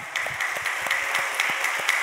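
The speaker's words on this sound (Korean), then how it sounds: "우리 힘차게 응원과 격려와 칭찬의 박수를 보내줍시다" A church congregation applauds during a Sunday worship service, a steady wash of clapping with individual handclaps standing out nearby, moderately loud and sustained.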